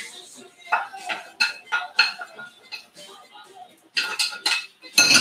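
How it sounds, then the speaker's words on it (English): Carrots and mushrooms tipped into an oiled pan with a series of light clinks and scrapes of cookware and utensils, close and moderately quiet, ending in a brief louder clatter. "immediately I'm going to put in the carrots because they're still cold and a little raw"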